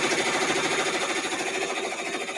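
Multi-needle embroidery machine stitching placement lines for appliqué, a steady, dense mechanical whirr with fast regular stitching pulses throughout.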